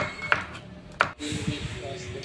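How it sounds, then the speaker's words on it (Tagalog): A knife cutting through an onion on a board, with two sharp ringing chops followed by rougher slicing and scraping, close and fairly quiet, while a person talks. "Sibuyas naman to, guys. Hiwa-hiwa ng sibuyas."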